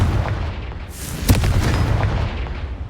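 Confringo spell explosions in the Hogwarts Legacy game, a rumbling, booming blast with a sharp crack in the middle and a low, rolling tail, loud and close.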